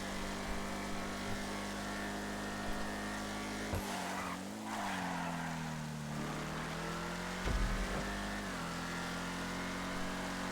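Vapid Dominator ASP muscle car lapping in GTA Online, a steady engine drone that shifts pitch through gear changes and braking, with a brief tire squeal and surge midway, heard alone without talk.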